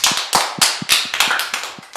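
A church congregation claps at the close of a service in a London gospel church, a few hands close by giving sharp, roughly regular claps, about ten in two seconds.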